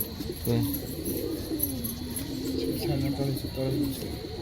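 Desi pigeons coo in low, rolling murmurs that repeat through the stretch, close by, with a steady background hiss and faint chirps, while someone talks over them.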